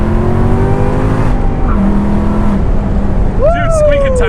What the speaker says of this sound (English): squeaking tires in third gear